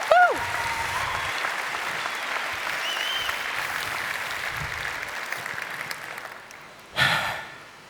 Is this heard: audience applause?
yes